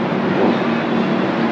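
A Kolkata–Agartala Garib Rath Express train hums steadily at a station platform, a dense, constant rumble with a faint sustained tonal whine running through it.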